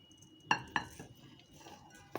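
A maqluba pot of rice, eggplant and meat is turned over onto a serving dish, giving two sharp clinks of metal and ceramic close by, followed by softer shuffling and a final light knock.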